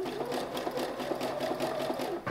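Sewing machine running a zigzag stitch over elastic for gathers, a fast steady mechanical chatter of needle strokes, close and loud, continuous for a couple of seconds with no talk.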